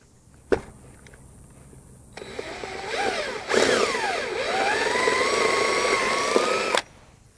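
A handheld drill bores out propolis-clogged holes in a wooden beehive, whining up after a sharp knock and running in a rising, wavering buzz for several seconds before cutting off, close by.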